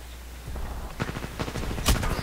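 An automated turret in the video game Titanfall 2 fires rapid bursts of gunfire, close and loud, the shots coming in quick repeated cracks with one heavier hit near the end.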